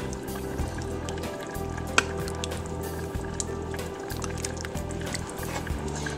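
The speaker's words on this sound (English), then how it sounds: "I'm going to go on and add 1 cup of milk to them" Milk poured into a pot of simmering dumplings, a soft continuous liquid pour with gentle bubbling and light stirring over a low steady hum.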